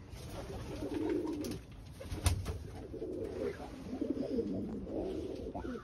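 A flock of pet pigeons gives soft, low rolling coos in several drawn-out bouts, fairly quiet over a steady room hum with no speech.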